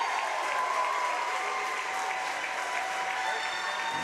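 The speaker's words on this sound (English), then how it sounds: "a well-deserved standing ovation and applause for Benji Atkins" Standing ovation and sustained applause from an arena crowd at a regional high school basketball championship, honouring senior Chapmanville Tiger player Benji Atkins as he leaves the floor; dense, steady clapping with a faint announcer voice over it.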